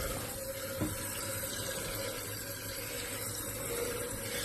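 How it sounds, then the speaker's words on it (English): Constant rushing of water refilling a toilet tank up to the float after a fill valve replacement, a steady hiss close by with no voices. "Just waiting for the water to get up to the float that's in here."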